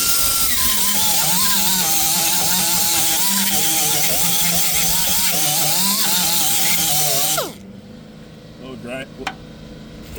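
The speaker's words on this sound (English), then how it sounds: "we'll grind that excess away." An angle grinder grinds away excess weld metal during a repair on a catering hauler truck, a loud steady whine with a wavering pitch lasting about seven seconds, then winding down and stopping. Quieter background sounds follow.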